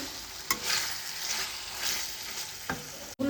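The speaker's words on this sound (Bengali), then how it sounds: "এখানে মাছের মশলা কষানো হচ্ছে" Spiced fish masala paste fries in a home kitchen pan, a steady crackling sizzle with a few sharp stirring scrapes and a clack near the end.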